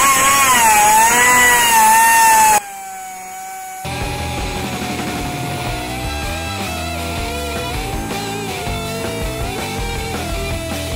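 A die grinder with a sanding attachment whines loudly on wood, its high pitch wavering as pressure changes, then cuts off briefly before restarting at a lower, steadier drone with a rhythmic buzz.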